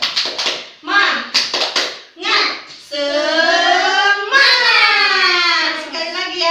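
A class of fifth-grade children does a rhythmic group clap, a quick burst of sharp claps followed by the children shouting a chant together, loud and close in a classroom.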